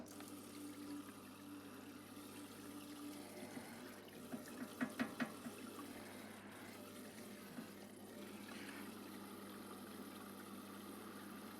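SGS bench top parts washer pump switched on and running, a steady hum with water splashing and trickling continuously, plus a few brief knocks partway through.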